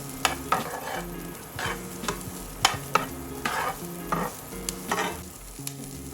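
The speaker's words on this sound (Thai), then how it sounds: "ใส่หัวหอมลงไปค่ะ ผัดพอให้สลดแล้วก็มีกลิ่นหอมนะคะ" Chopped onion stir-fried in a little oil in a pan sizzles steadily up close, broken by regular scraping strokes of the stirring utensil, with soft tonal background music underneath and no talking.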